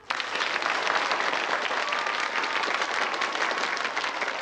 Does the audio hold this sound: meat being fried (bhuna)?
no